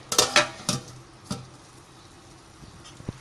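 A metal lid clanks onto a pot of rice with a few sharp clatters near the start, then a single softer knock and a faint tap later, close and fairly quiet.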